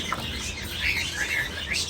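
Soft, high chirping calls of small doves, a few brief notes repeating close by over faint background noise.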